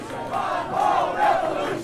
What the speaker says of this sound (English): supporters of all ages packed into a hotel ballroom to celebrate Ron Paul's second place showing, cheering